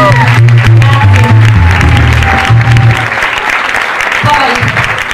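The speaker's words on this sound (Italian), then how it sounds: "Quindi un applauso." Audience applause at a salsa dance show in a club, dense and loud clapping with cheering, a sustained low musical tone and voices running underneath throughout.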